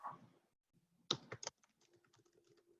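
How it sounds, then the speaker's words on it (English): Computer keyboard typing during an online meeting: a short, faint burst of a few quick key clicks, followed by softer scattered taps against a quiet background. "I'll type that in."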